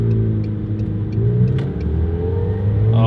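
A McLaren sports car accelerates hard with a loud, close engine roar that climbs steadily in pitch, and no one speaks over it.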